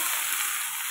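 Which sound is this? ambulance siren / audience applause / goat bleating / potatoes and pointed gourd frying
potatoes and pointed gourd frying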